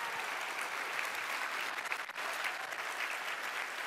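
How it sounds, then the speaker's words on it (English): Steady applause from a crowd, dense clapping that holds at an even level throughout. "Please, another round of applause for those awesome folks."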